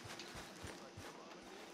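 Horse hooves in Red Dead Redemption 2 video game, a steady clip-clop of soft, evenly spaced thuds at a walking pace, fairly faint and close.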